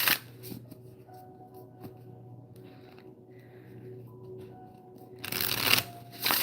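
A deck of tarot cards is shuffled by hand, a quiet riffle near the start and a louder flurry of card flicks near the end, close and alone without speech.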